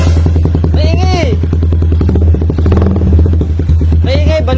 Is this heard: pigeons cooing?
no